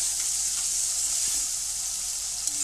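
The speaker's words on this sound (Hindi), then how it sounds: "अब इसको 2 सेकंड तक फ्राई करना है।" Curry spice paste with ground green chili, made for a taro (arbi) dish, fries in oil with a steady, bright, even sizzle close by and no break.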